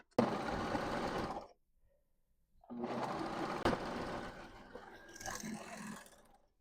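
A sewing machine stitches the bottom panel of a spooky-themed tote bag to its middle section in two steady running bursts separated by a pause, the second ending with a lighter, irregular tail.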